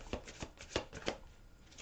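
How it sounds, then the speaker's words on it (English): Guardian Angel oracle cards being shuffled close up: a handful of quick papery riffles and snaps in an uneven rhythm, quiet and alone. "I'm shuffling these Guardian Angel cards."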